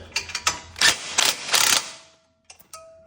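Ratchet clicking in several quick bursts while snugging the bottom bolt of an Ironman lift kit on a 2024 Subaru Crosstrek Wilderness, close and crisp, followed by a pause and a few faint metallic taps.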